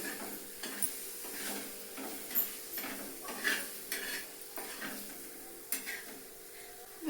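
Chutney being stirred in a pan makes a string of soft scrapes and light metallic taps in an irregular rhythm, fairly quiet and close, with no voices.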